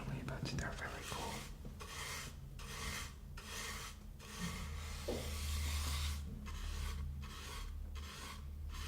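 A brush from a hardware store is rubbed and handled up close in an ASMR roleplay, making a dense, continuous rasping scrape broken by short pauses, with soft whispering underneath.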